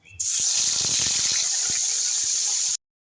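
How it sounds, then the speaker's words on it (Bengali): Salted, turmeric-coated bitter gourd dropped into hot oil in a kadai, bursting into a loud, bright sizzle with crackling pops that holds steady for a couple of seconds, then stops abruptly. "উচ্ছে ভাজা হয়ে গেছে"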